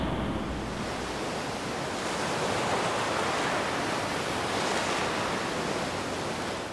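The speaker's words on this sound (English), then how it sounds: "You listen to the waves on the beautiful beach of Tel Aviv" Waves breaking on the beach at Tel Aviv make a continuous, loud wash of surf, steady and broadband with no voices.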